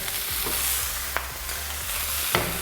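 Steak sears in a smoking-hot pan, a steady close sizzle broken by a couple of sharp clinks and scrapes, no voices.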